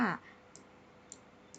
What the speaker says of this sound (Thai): เราก็จะทำการคลิกเมาส์ทางด้านซ้ายนะคะ